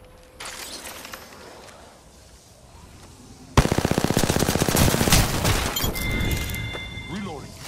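Gunfire in the video game Apex Legends: after a quieter stretch of ambient game noise with a voice, a loud rapid automatic burst erupts midway, rattling on with impacts and clatter until the end.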